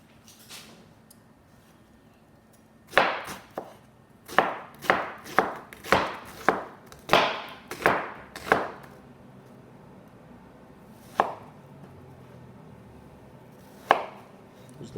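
Knife chopping onion on a cutting board, a run of about a dozen sharp, close thuds in quick rhythm, then two isolated chops after a pause; no talk.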